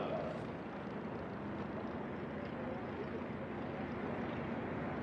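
Steady, fairly faint broadband rumble and wind-like roar of a Carbon Cub aircraft landing with flaps and speed brake deployed during a STOL drag race, continuous and distant throughout.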